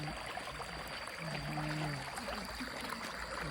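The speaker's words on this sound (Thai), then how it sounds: "ฟังเสียงน้ำแล้ว" Steady broadband rush of water flowing near a waterfall fills the scene continuously, with a faint low hum passing briefly in the middle.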